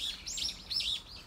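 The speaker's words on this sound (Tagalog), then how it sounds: "yung mga ibon, oh. Diba?" Birds chirp in short, bright bursts on an outdoor walk with a Labrador Retriever, several quick tweets close together and clear over a quiet background.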